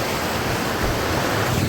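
A swollen village river rushes past, a loud, dense and continuous wash of flowing water with no voices over it.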